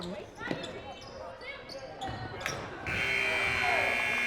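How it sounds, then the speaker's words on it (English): Basketball bounces and court sounds at a girls' varsity high school game, then a loud, sustained buzzer ending the first quarter, with commentators talking over the action. "Buzzer kind of snuck up on me as well, Paul"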